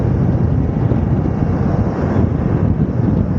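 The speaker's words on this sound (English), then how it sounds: "Holy crap, it's windy." Strong, steady wind roars across the microphone at the Sturgis motorcycle rally in 2024, a continuous loud low rumble with no break and no talking.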